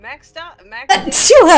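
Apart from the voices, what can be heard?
person sneezing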